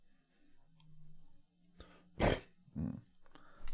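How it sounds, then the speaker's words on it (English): A man clearing his throat near a microphone, a short rough burst followed by a second softer rasp, with faint clicks and quiet shuffling around them. "Clearing my throat."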